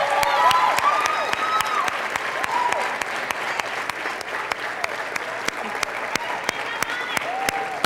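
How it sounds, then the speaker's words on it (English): A crowd applauds the contestants at a 2008 junior pageant evening, with steady clapping and occasional sharp louder claps, a few whoops rising over it throughout. "Let's give them one more round of applause"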